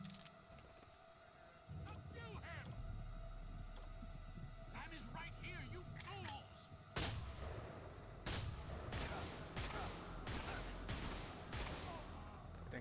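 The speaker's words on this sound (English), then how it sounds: "Thank God he's using a shotgun." Shotgun fire in the Manhunt 2 video game: a string of sharp, separate blasts that grow louder and more frequent in the second half, over a droning background hum.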